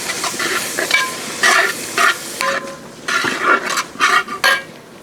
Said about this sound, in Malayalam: ഇനി അതൊന്ന് ഇളക്കി